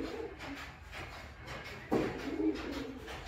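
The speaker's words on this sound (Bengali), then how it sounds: "এই যে ওপরেও দেখুন কিছু পায়রা বসে রয়েছে," Pigeons coo softly from nearby in a quiet setting, with one fuller, louder coo partway through and low background noise around it.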